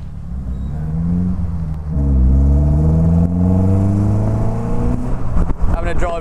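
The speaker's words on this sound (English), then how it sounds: "we get in the car and take it out for test drive" A Morgan sports car with its top down pulls away and drives on a test drive, the engine a steady low rumble that rises and shifts as it accelerates, loud and close throughout.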